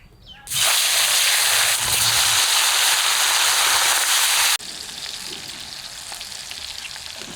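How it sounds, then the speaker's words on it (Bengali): Hilsa fish pieces drop into hot mustard oil in a wok and burst into a loud, dense sizzle for about four seconds, then settle into a quieter steady frying hiss, close by with no talking. "কড়াইয়ের তেলও গরম হয়ে গেছে এবার মাছগুলো ভাজবো"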